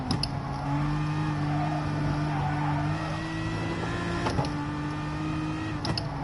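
Race car engine in the Gran Turismo video game, a steady sustained drone holding a constant pitch with faint overtones, running continuously at a moderate level with brief clicks near the end and no speech.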